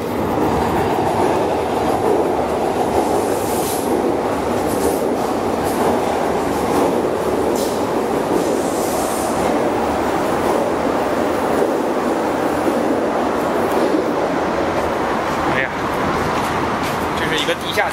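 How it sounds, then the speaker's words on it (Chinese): A train passes along a railway line near a river in Stockholm, a loud, steady rumble with clattering wheels and faint squeals throughout, while someone talks over it. "这个不是雷声，这是火车声。"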